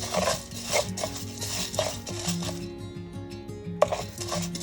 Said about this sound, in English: Remember to constantly keep stirring it so that all the grains can cook evenly.